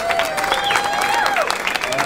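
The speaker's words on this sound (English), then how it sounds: "We're both applauding." Audience clapping after a jazz combo performance, a dense, fairly loud patter of many hands with voices and a brief cheer rising over it.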